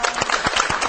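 Audience applause welcoming a guest onto a Korean education-themed TV program: a brief, dense patter of many hands clapping, fairly loud and close, with no one talking.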